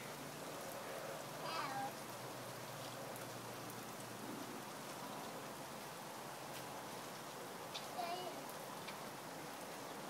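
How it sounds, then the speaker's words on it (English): Steady rain falls outdoors over concrete and a car, a soft even hiss of drops throughout with a couple of brief faint sounds rising above it. "Yeah, it's like a shower."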